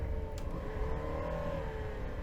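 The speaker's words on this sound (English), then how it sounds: "don't downshift mid-corner like I just did" A car engine downshifts mid-corner while racing in Assetto Corsa, a steady whirring engine drone whose pitch slides and rises briefly, heard alone and at moderate level.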